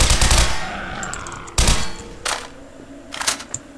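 Suppressed SMG fire in Garry's Mod: a sustained burst of muffled, rapid shots at the start, then shorter clipped bursts later, with small metallic clicks between them.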